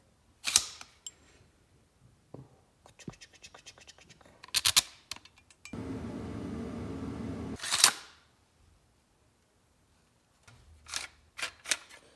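Metallic clicks, scrapes and ratcheting handling noises come from fitting a chassis onto a TX-22 pistol set up with an FRT trigger, in short bursts with a sustained rasping stretch midway and quiet gaps between.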